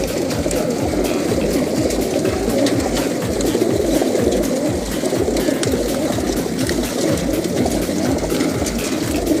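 Racing pigeons coo in a dense, continuous chorus of soft throaty rhythmic calls at a pigeon racing club loft, close and steady throughout with a faint watery hiss behind.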